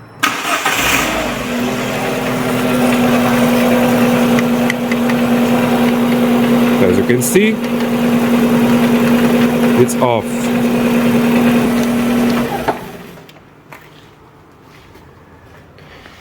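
An Alfa Romeo 147 Twin Spark engine with its oil pressure light on runs at a steady hum with a droning tone, clicks and knocks breaking in, then cuts off to near quiet; someone speaks briefly.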